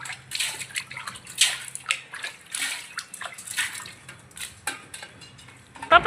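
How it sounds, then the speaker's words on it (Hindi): Water runs from a household tap in a thin, uneven stream, splashing and sloshing into a container with some clinks of utensils, close and moderately loud with no talk. "पानी, टुंटी थोड़ी सी ही आ रही है"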